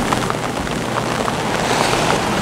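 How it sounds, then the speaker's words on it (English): Strong wind from an approaching thunderstorm at sea off the Bahamas, roaring steadily and loudly over a sailboat with broadband gusting rush and faint water noise, alone without speech. "now the wind's coming out of the south-southwest from this storm"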